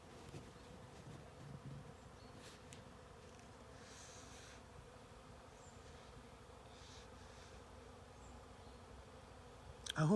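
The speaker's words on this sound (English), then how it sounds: "These are the beehives." Bees hum and buzz around beehives outdoors, a steady insect drone with occasional louder passes as individual bees fly close by.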